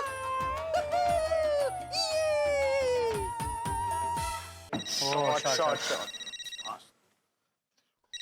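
A melodic electronic ringtone plays loudly with shifting tones, changing to a quicker warbling pattern before stopping abruptly, followed by silence.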